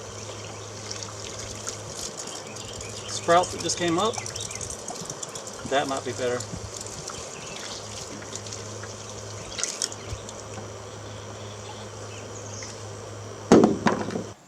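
A homemade gravity-fed shower head sprays water in a garden, a steady faint hiss and trickle throughout with a few louder splashy bursts, while someone talks over it.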